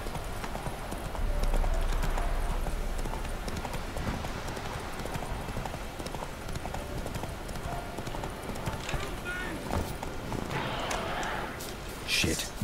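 Roach, a horse in The Witcher 3, gallops with a steady rapid clip-clop of hooves over ambient game sound, while someone speaks briefly.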